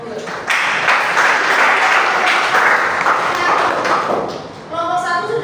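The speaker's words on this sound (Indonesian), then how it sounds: "Tepuk tangan kelompok 2." A classroom group claps for Group 2 in sustained applause lasting about four seconds, dense and steady before tapering off, with a little talk at the end.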